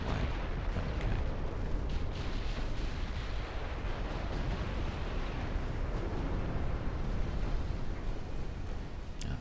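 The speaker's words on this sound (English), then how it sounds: "And there comes the torpedo." A torpedo explosion in a naval battle video game blends into a dense, continuous roar of rumbling blasts and gunfire, loud and sustained with no clear pauses.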